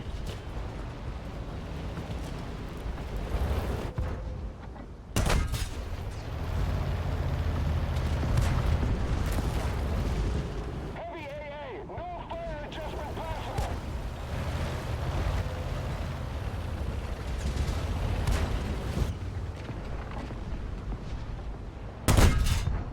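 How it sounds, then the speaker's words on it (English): Gunfire aimed at bunkers during a D-Day battle in World of Tanks, with sharp cannon blasts near 5 and 22 seconds over a continuous rumble of battle and surf-like noise. "Keep firing at those bunkers, we have to destroy them."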